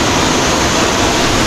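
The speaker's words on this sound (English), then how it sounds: "So this is the second waterfall." Kuang Si waterfall in Laos roars as a loud, unbroken rush of falling water, close and steady with no other sounds.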